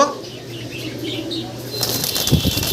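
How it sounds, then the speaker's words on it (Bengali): Pigeons kept together in a dealer's pen flutter and flap their wings restlessly, a close burst of rustling wingbeats that grows busier toward the end. "কবুতর তো একসাথে অনেকগুলো ছটফট করতেছে"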